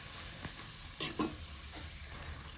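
Puris frying one at a time in hot oil in a village kitchen, a steady bubbling sizzle with a few soft stirring taps, close and moderately loud.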